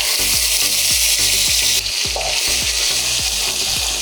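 Onion paste fries in oil tempered with cumin and dried red chillies for a Bengali doi katla fish curry, a loud close hiss and crackle with regular rhythmic knocks of a spoon stirring the pan.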